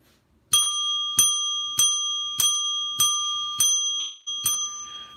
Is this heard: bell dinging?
yes